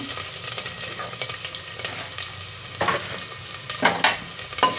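Chopped onion frying in hot tempering oil with mustard seeds, cumin and curry leaves for a village-style avarebele sambar, a steady close sizzle with a few louder stirring scrapes near the end and no talking.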